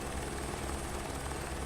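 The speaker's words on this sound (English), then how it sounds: "This is one of the Airbus helicopters." An Airbus helicopter in Microsoft Flight Simulator gives a loud, steady rotor and engine drone that fills the whole moment without a break, close and constant.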